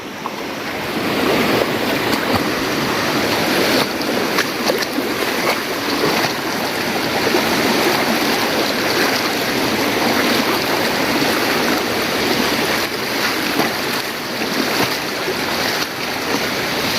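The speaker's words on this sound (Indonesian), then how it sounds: "kita melewati aliran sungai yang ke 10 apa 11 ya" A flowing river stream crossed on a hiking trail to Curug Cisadane waterfall near Bogor, heard as a steady, close broadband rush of water with some wind buffeting the microphone, no talking.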